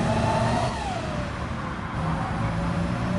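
An electric Corvette CX hypercar accelerates in Gran Turismo 7, a steady loud whine that climbs and bends in pitch over continuous road roar, close and sustained without voices.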